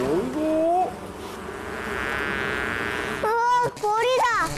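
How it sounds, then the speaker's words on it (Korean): A bee buzzes in a steady, droning hum for about two seconds outdoors in a grassy spot. A voice comes before it and other voices follow. "벌이다."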